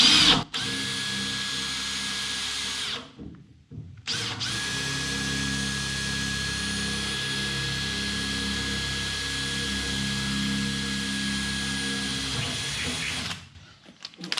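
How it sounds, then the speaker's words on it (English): A power drill drilling a pilot hole during a fishing boat fit-out revs up close by and runs at a steady whine for about twelve seconds, briefly pausing once near the start before stopping. "Drill a pilot hole here while I'm at it."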